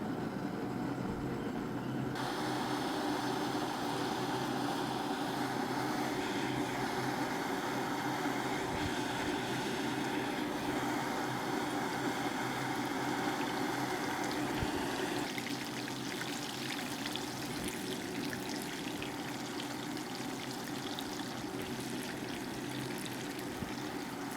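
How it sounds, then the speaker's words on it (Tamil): Cooking oil pours into a deep vada frying pan heated for frying mushrooms, giving a long, steady, faint liquid rush that runs unbroken throughout with slight shifts in texture. "அதில் வந்து தேவையான அளவு ஆயில் சேர்த்துக்கணும்"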